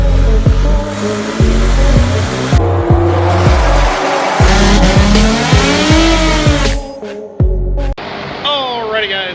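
Turbocharged car fitted with an AMR turbo kit and COMP 6875 oilless turbo running a full wide-open pull on a dyno, engine roaring loud and close with rising, shifting revs, brief gaps and turbo whoosh near the end.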